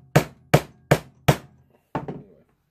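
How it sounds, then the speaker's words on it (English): Four sharp, evenly spaced hammer strikes ring out close by as rivets are set into a leather sheath, then a pause and a softer cluster of taps. "punch in a couple of rivets"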